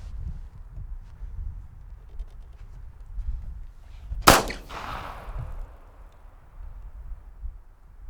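A single sharp pistol shot cracks out loud and close during a CQB retention shooting drill, then echoes briefly over a low outdoor rumble.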